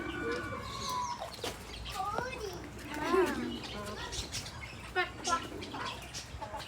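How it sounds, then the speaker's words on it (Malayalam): Brahma chicken clucking at a pet park and aquarium in Mysore, with several short clucks and calls among other birds, close by against a busy outdoor background, with people's voices in the background. "ബ്രഹ്മ ചിക്കൻ"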